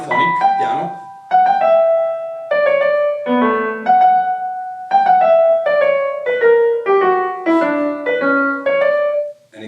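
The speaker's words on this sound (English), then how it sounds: "this is an example of Bach chorale. It's monophonic piano." Solo piano plays a slow monophonic Bach chorale melody, single notes in steady succession with short pauses between phrases, clear and close.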